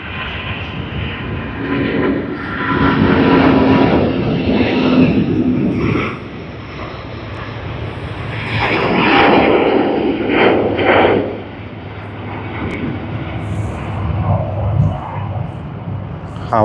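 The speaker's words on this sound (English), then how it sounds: "Airbus A350-900 on its takeoff roll from runway 34L" A Thai Airways Airbus A350-900 rolls down runway 34L at Sydney Airport, its engine roar swelling and fading in broad waves over about seventeen seconds while a commentator talks over it.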